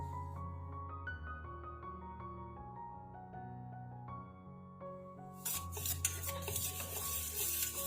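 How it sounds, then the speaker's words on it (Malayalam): A spoon stirs maida flour roasting in butter in a pan on a low flame, soft scraping and light metallic clinks under a backing music track. "എന്നിട്ട് ഇത് ചെറിയ തീയിൽ വെച്ചിട്ട് നമുക്ക് ഇളക്കിയിട്ടൊന്ന് ചെറുതായിട്ടൊന്ന് വറുത്തെടുക്കാം"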